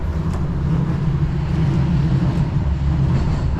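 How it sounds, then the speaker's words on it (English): A tram rolls past on city tracks with a continuous low rumble and steady mechanical drone that stays loud and even throughout. "Oh, it's a tram."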